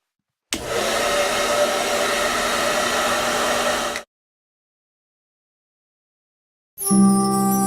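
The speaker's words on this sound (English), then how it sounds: "The hairdryer was perfect." A hair dryer in the video game Broken Sword: The Sleeping Dragon blows steadily for a few seconds and shuts off, then after a silence it starts up again, close and loud.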